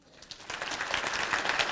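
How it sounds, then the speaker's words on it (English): Audience at a college's State of the College address giving students a round of applause, a soft wash of many hands that swells in volume, with no voices over it. "would you join me in giving a round of applause for all our students who are here?"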